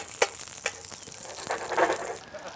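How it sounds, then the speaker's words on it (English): NY strip steak sizzles and spits in butter in a hot skillet, a steady crackle with a few sharp pops and a swelling hiss of frying near the end. "And we should let them start sizzling."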